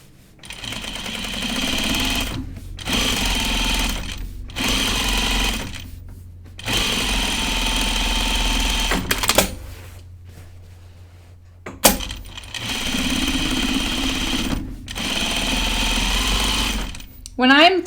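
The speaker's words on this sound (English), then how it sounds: "So I'm going to top stitch my seams here." A sewing machine top-stitches the seams of a jacket, running in steady loud bursts of fast whirring stitching broken by short pauses, with a voice talking over parts of it.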